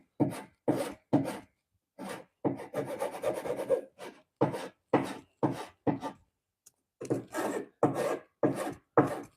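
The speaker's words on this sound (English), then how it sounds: "And I am using a file to trim it back if I can" A hand file rasps against Danish teak on a bookshelf being refinished, in steady back-and-forth strokes with short pauses between groups, close and crisp with no talking.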